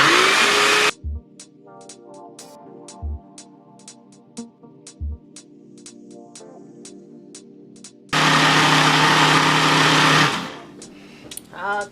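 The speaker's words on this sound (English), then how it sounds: "Now we're just going to throw this into our blender." A blender whirs up cucumber into juice in a kitchen, a loud steady motor burst near the start and another toward the end, separated by quieter clicks and handling noises.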